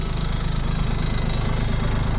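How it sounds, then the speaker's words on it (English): A tractor engine idles steadily at close range, left running during a field burn, with a loud, even low rumble and rapid regular chugging pulse throughout. "I'm gonna leave the tractor running"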